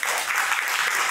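Applause from a live festival audience, a continuous dense wash of clapping that fills the whole short moment at steady loudness.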